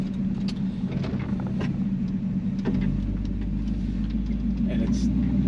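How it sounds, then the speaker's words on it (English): A 1933 Ford roadster with a crate 350 V8 idles with a steady low rumble, its tone deepening and settling slightly midway, while people talk nearby. "that crate 350 just fires up every single time"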